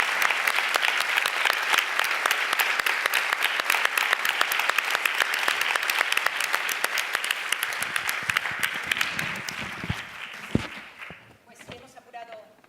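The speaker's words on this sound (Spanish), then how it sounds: "Un aplauso enorme si os pido para ellos." Large audience at an Oxfam Intermón event in Madrid breaks into loud, sustained applause that fades out after about ten seconds, leaving scattered claps and noises.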